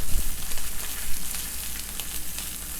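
A steak sears in a very hot, smoking oiled pan, giving a steady, loud, hissing sizzle with scattered crackles and pops.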